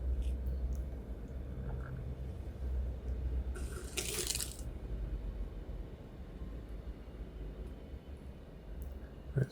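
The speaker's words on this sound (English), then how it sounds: "It's bubbling up quite well." Paint stripper fizzes and bubbles on the old finish of a 1930s Australian silky oak cabinet, a faint, close, continuous crackle with one brief louder rustle partway through.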